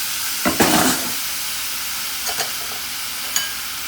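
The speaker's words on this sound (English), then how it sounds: "add just the last little bit of my raw meat into our frying pan" Raw ground beef hitting a hot frying pan for beef pasta, giving a steady close sizzle with a few brief louder bursts of crackle and stirring scrapes.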